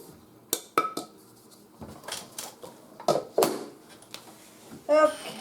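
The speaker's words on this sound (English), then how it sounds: "let's transfer everything back to the big bowl" Apple cobbler mixture being moved into a big mixing bowl in a home kitchen: scattered clinks and scrapes of utensils against bowls, with several sharper knocks and a louder rattle near the end, fairly close.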